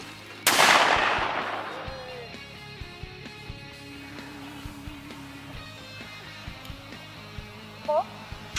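A shotgun fires at a clay target during a pheasant-hunting outing in the mountains: one loud, sharp blast rings out and then decays over about a second. A quieter, scattered outdoor background follows, along with a brief faint sound near the end.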